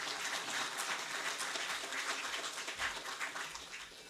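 An audience at the medal winners' felicitation ceremony for the Asian Games 2022 claps in sustained, dense, steady applause heard alone.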